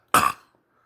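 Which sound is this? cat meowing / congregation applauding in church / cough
cough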